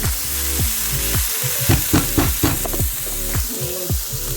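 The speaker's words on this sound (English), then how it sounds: "now I saute the onion and garlic in the same oil" Onion and garlic sautéing in oil used for shrimp pad thai, a loud close sizzle with rapid rhythmic scraping strokes of a utensil across the pan, no voices.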